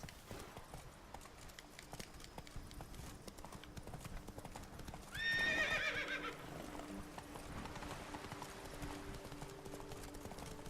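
A horse in The Witcher 3 video game with clip-clopping hooves throughout and a loud, brief neigh breaking out midway, all over a soft ambient game backdrop.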